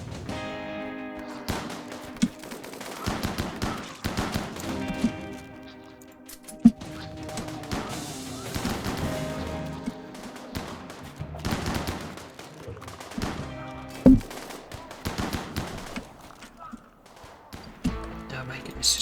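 Gunfire in the RimWorld video game: scattered gunshots crack over a steady music bed, with sharper reports standing out now and then and a voice talking at times.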